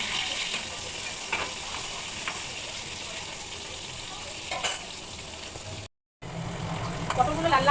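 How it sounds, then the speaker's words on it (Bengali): Pointed gourd (potol) fries in a pan with a steady sizzle and crackle, with occasional scraping of stirring and brief silence near the end. "পটলগুলো লাল লাল করে ভেজে নিয়েছি"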